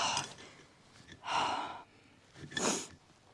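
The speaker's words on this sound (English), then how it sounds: "I'm only sniffing." Three short, breathy sniffs close up, spaced about a second apart, with quiet pauses between.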